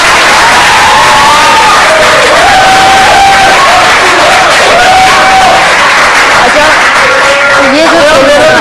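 A studio audience at a cricket talk show about the Pakistan v India T20 World Cup match roars and claps loudly, a dense crowd din with a raised voice shouting over it throughout.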